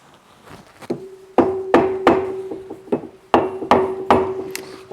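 Light hammer taps on parts of a rat-infested Corvair 140 engine during disassembly, a dozen or so sharp knocks in an irregular rhythm, close and fairly loud, some with a brief ringing metallic tone.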